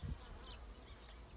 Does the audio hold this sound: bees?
yes